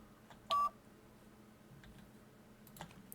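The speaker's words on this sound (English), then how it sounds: "If we can actually play the game without the timers going off" A single loud electronic beep from a timer in the video game Fly Corp, one short tone near the start followed by a few faint clicks, with no voices.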